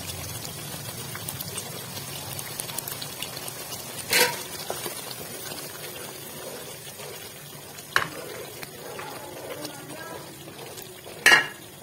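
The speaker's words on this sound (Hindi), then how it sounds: "थोड़ी थोड़ी देर के बाद चम्मच चलाना है आपने।" Chicken and potato shorba sizzles steadily in a pot while a spoon stirs it, with three sharp knocks of the spoon against the pot spaced several seconds apart.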